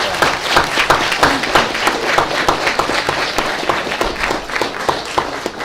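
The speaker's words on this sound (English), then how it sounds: "Let's give them another round of applause." An audience at a school board meeting claps in steady, sustained applause, many hands close and loud for several seconds.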